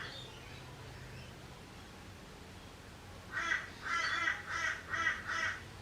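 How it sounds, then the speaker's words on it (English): Crows caw outdoors, a run of five or six harsh calls in quick succession, fairly distant and faint against a quiet background. "listen to those crows out there"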